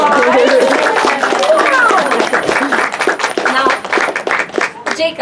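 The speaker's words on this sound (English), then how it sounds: "applause" Audience applause and clapping at an outdoor Renaissance faire bubble magic show, a dense crowd burst that starts strong and thins out over a few seconds, with children's voices mixed in.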